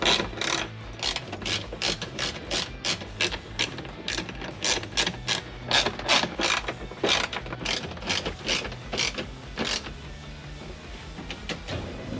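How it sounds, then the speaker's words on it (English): Ratchet clicking in quick repeated bursts while tightening the steering shaft on a Ford Foxbody, a close, steady run of sharp pawl clicks with short pauses between strokes and no talk. "I'm just going to tighten up the steering shaft"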